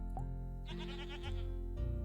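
A goat in the Hexagourds video game bleats in a loud, wavering, drawn-out call, close and clear, with a second shorter bleat starting near the end.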